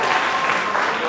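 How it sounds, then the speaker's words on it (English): Wedding guests at a Togolese marriage ceremony applaud the newly presented couple, a brief, dense burst of clapping with some voices mixed in. "Please, a round of applause for them."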